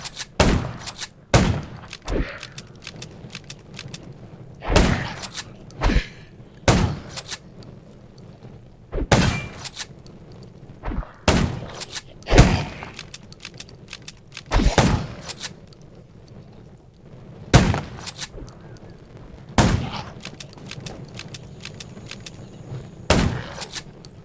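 Repeated loud gunshots in the survival video game Undawn ring out in irregular bursts, single shots and quick pairs with sharp attacks, separated by short quiet gaps over a low ambient hum.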